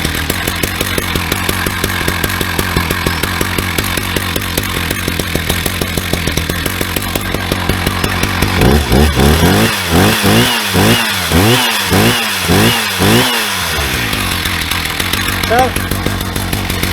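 Husqvarna 380CD chainsaw cutting lumber with a milling rig, a loud steady engine drone that surges into rhythmic revving pulses partway through, with a brief spoken word near the start.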